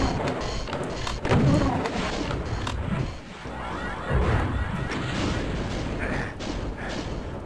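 Rockets fired in the Doom 2 video game, heard as heavy booming thuds and crashing blasts in two main bursts around 1.5 and 4 seconds, loud over dense game noise, with no one speaking.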